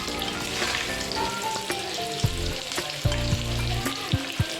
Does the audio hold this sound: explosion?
no